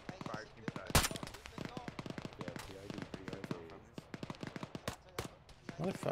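Gunfire in the military simulation game Arma: rapid bursts and single cracks of automatic rifle fire, loud and sharp, mixed with scattered distant shots and occasional faint voices.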